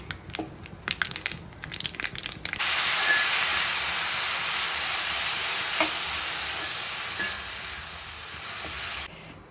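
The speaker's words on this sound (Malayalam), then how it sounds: "കടുക് പൊക്കട്ടെ" Mustard seeds hit hot coconut oil in a pan and erupt into a loud, continuous sizzle with scattered sharp pops, after a few seconds of quieter clinks and stirring.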